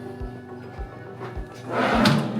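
A storage drawer in a resort villa room slides and bumps, with a few soft low thunks at regular intervals followed by a brief louder rattle and scrape near the end.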